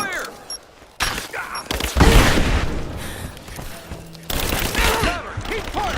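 Bursts of gunfire from a firefight in the video game Rise of the Tomb Raider, loud and sustained with repeated volleys and heavy booms, while voices shout over the shooting.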